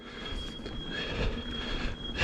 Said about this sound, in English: my poor brake squealing